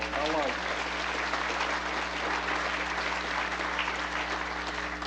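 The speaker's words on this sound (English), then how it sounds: "If you would give Bill Brannon a big round of applause." Audience applause fills a Georgia Motorsports Hall of Fame induction in Dawsonville, a steady unbroken clapping from a large room that carries on for the full stretch, with a brief voice at the very start.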